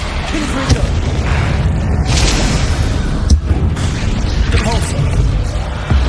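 Confringo explosive spell blasts in Hogwarts Legacy, a dense, loud rumble of booms and bursting pops that continues throughout the clip with no pause.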